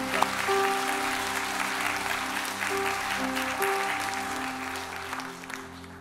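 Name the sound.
applause welcoming the guest pastor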